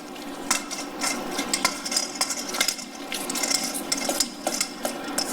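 A marinade with Himalayan salt stirred in a bowl for sheet-pan honey pepper salmon, soft continuous clinking and scraping of a utensil against the dish in an irregular rhythm.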